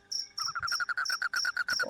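Crickets chirp close by in rapid, steady pulses, a bright insistent trill repeating throughout with no voices.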